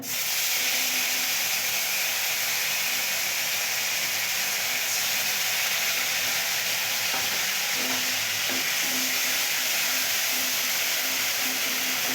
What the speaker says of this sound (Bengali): পাঁচফোড়নটা হয়ে গেছে মা এবার পেঁয়াজ বাটা দিয়ে দিচ্ছে